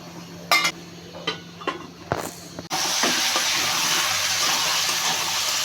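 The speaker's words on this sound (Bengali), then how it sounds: "এই যে এইভাবে আমি আলুটা কষে নিলাম, এই যে তেল ছেড়ে দিয়ে এসেছে।" Potatoes sautéing in oil in a pan for a home-cooked fish curry, with a few sharp utensil clinks and scrapes, then a loud, steady sizzle and hiss that fills the rest of the clip.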